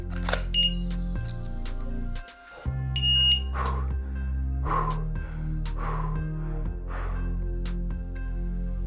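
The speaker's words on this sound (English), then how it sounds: "It is not just a disc lock. It is an alarm as well." A motorbike disc lock alarm sounds with loud, shifting electronic beeps and tones for several seconds, close by, with short breathy gasps heard over it.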